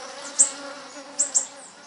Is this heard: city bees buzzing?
yes